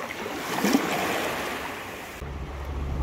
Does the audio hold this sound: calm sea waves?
yes